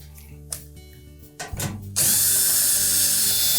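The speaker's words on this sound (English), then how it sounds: "we're going to remove these 1/4-inch hex head screws that secure that back panel to the cabinet" A power drill or driver backs out quarter-inch hex head screws holding the back panel on a Whirlpool washer cabinet, with short ratcheting bursts and then a loud, sustained close-up whir.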